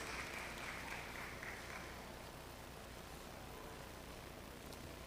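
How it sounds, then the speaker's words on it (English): A church congregation claps in sustained, even applause, faint and distant, with a light wash of room noise throughout. "can we clap"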